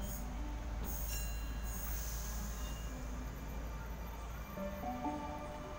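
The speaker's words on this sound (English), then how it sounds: "Millennium M set M3 now departing from platform 1." A Sydney Millennium M set suburban train pulls away from a station platform, a loud steady rumble of rolling stock with rising motor tones and faint wheel squeal, with no talking.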